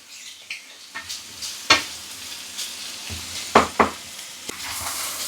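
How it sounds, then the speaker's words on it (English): Four ounces of minced beef sizzles steadily in a pan while a utensil stirs and scrapes it, with a few sharp knocks against the pan and no talking. "Now I'm just frying the mince down until it's browned."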